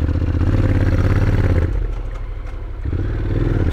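Motorcycle engine on a mountain road in Italy, a loud, close, steady low rumble with a rattling clatter, dipping briefly in pitch and level as if shifting gear before pulling again.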